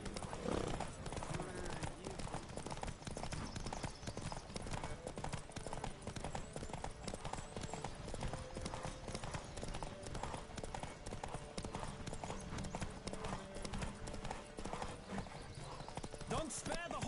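Rapid hoofbeats of a galloping horse in The Witcher 3: Wild Hunt with occasional whinnies, continuous and energetic over a busy background, with a voice talking now and then.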